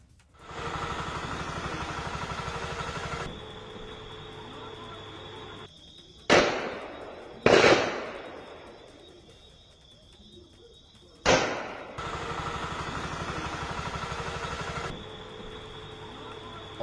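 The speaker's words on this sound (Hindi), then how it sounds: "जैसा आपने अभी गोलियों की आवाज़ें सुनी है" Bursts of gunfire ring out during a security forces' encounter with militants in Jammu and Kashmir: several sharp, loud reports with echoing tails, separated by a few seconds amid steady background noise.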